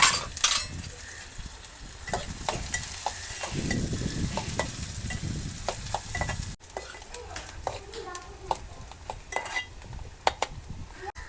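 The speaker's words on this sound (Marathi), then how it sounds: "तेल तापल्यानंतर आपण सगळ्यात आधी मिरची बारीक चिरलेली आणि कांदा चिरलेला हे मस्तपैकी परतवून घेऊ" Finely chopped green chilli and onion sizzle and crackle in hot oil, stirred with a spoon that clinks against the pan, up close and steady with a short break partway.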